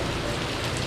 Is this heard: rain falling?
yes